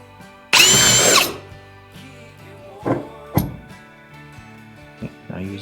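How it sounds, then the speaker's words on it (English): A handheld power drill bores a hole, giving one loud high whirring burst of about half a second, then stopping, followed by scattered clunks and knocks of handling the tool nearby. "We'll drill a hole in there"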